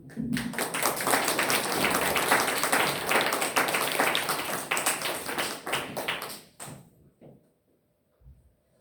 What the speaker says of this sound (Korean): 큰 환영의 박수로 맞아주시면 감사하겠습니다.